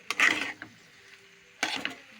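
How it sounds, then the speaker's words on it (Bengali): Dal with chillies being stirred in a pan over a low gas flame, heard as two short, quiet scraping bursts separated by a near-silent pause. "নাড়াচাড়া করে এটা মিশিয়ে নেব।"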